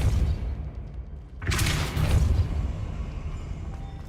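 A Depulso force spell cast in Hogwarts Legacy bursts out as a sudden whooshing blast with a low boom, then decays into a rumbling tail under background game ambience.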